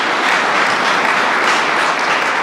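A crowd applauds steadily and loudly for a few seconds at a community economic development grants announcement, a dense, even wash of clapping with no speech over it.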